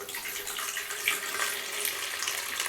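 Distilled water pours from an old container in a steady, continuous splashing stream, moderately close and running alone without pause for a few seconds.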